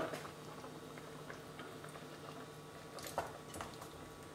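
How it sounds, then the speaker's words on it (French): A Sri Lankan prawn curry sauce bubbles in a pot, giving a soft, steady patter of small pops and a low simmer close by with no voice. "Voilà, donc c'est rentré en ébullition."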